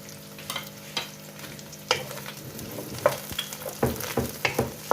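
Masala being sautéed and stirred in a kadhai with almonds, cashews and chopped green coriander, a steady close sizzle broken by repeated spoon scrapes and clatters, with no talking.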